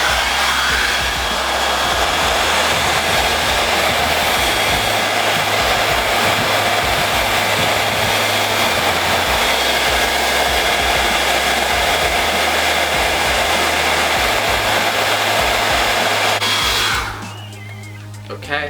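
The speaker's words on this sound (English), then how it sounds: "what the blow dryer is doing is it's obviously heating up your feet" A hair dryer roars steadily at close range for a long stretch, heating feet inside shoes to stretch them, then cuts off near the end.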